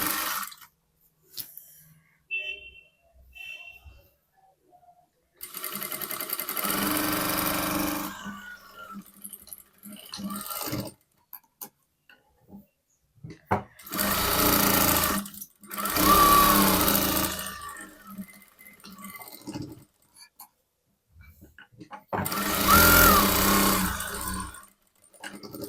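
Sewing machine stitching a blouse, running in several separate bursts of steady mechanical whirring with quiet pauses between them, fairly close and heard on its own.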